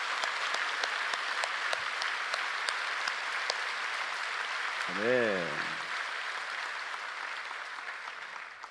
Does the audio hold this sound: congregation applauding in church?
yes